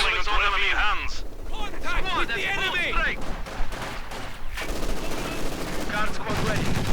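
Sustained machine-gun fire and explosions rattle through a Company of Heroes 2 battle, dense bursts and booms overlapping, heard beneath continuous talk.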